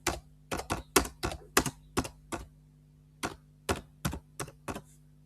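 Fingers tap out a task name on a computer keyboard, close and crisp: a quick burst of keystrokes, a short pause, then another run of clicks, with no talking.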